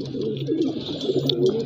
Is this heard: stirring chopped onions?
no